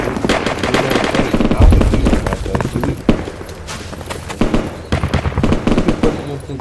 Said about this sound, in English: They're on our team, and why are they shooting at us?